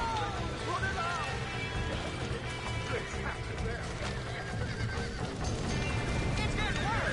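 Horse neighs and hoof clip-clop in the Wreckfest video game, whinnies rising over a dense, steady bed of game noise and shouting voices throughout.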